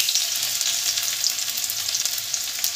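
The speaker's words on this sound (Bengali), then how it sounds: "তেল গরম হয়ে গেছে, পেঁয়াজটা দিয়ে দেবো।" Onion frying in hot mustard oil, a steady, close, loud sizzle with dense crackling that holds evenly throughout, no voices.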